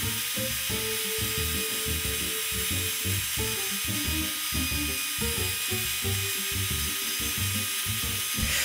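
A Sears Craftsman router carves letters into a wooden sign, giving off a loud, steady high-pitched whine with a rough, chattering low rumble as the bit cuts through the wood.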